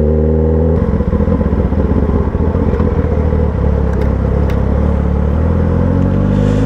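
A Yamaha FZ motorcycle engine rumbles loud and close for the whole stretch, a steady deep throb with a slight shift in pitch near the end and no voices.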